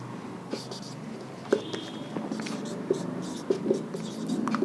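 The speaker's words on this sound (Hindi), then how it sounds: "अरे थोड़ा नीचे लिखते हैं" Chalk or marker scratches on a board during a Hindi history class, heard as short strokes and taps in irregular bursts over a room's background hum, with occasional speech in between.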